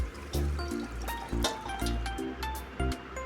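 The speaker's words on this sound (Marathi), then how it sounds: "आता ही डाळ ओतून घेतली मी ह्याच्यामध्ये" Dal (lentils) poured into a cooking pot with raw mango already simmering, a series of close liquid splashes and trickles arriving in short bursts with brief pauses between them.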